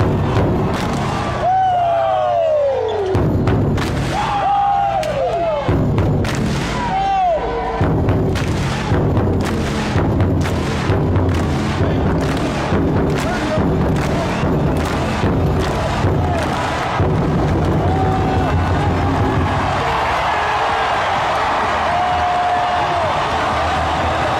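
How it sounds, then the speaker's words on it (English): Repeated booming drum hits in a basketball arena at a Spurs playoff win over the Blazers, a steady run of loud single beats over a roaring, cheering crowd, with faint whistle-like tones in the background. "Here's the bang of the drum."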